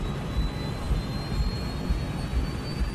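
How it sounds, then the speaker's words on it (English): Malaysia Airlines jet airliner engines roaring steadily as the plane accelerates down the runway for takeoff, a loud, continuous rumble with no voices. "The crew monitors the speed as they accelerate down the runway."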